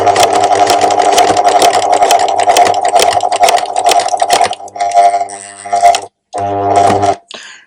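A sewing machine runs steadily, stitching the neckline of an evening top. The motor hum and rapid needle clatter are loud and close, then break into short stop-and-start bursts with brief pauses near the end.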